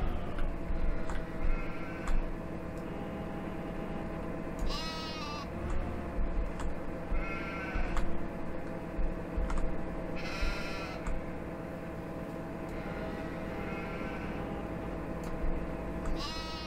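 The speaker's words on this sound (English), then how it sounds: "Sheep, sheep, sheep." Sheep bleat repeatedly in Farming Simulator 15, several separate cries standing out over a steady droning game engine and ambient background hum.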